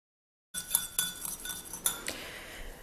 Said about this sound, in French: On doit mettre donc dans le récipient 40 g ou ml d'hydrolat de rose, 50 ml d'eau minérale.